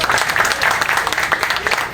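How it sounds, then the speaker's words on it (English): An audience applauds loudly for Kashif Hussain at a 9/11 and Covid-19 heroes honoring event, a dense, steady wash of many hands clapping close by with a few voices mixed into the crowd. "I want to give another round of applause to Kashif Hussain"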